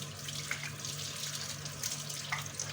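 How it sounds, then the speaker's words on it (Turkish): A kitchen tap runs steadily while hands are washed, a continuous close hiss of water into the sink with faint splashes and a low hum beneath it, and no one speaks. "Ben de ellerimi bir güzel yıkayayım."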